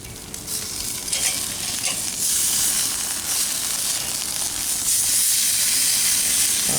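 Sous vide Korean BBQ pork loin sears on a grill as its sauce caramelizes, producing a loud, steady, close sizzle and hiss that runs throughout without any voices.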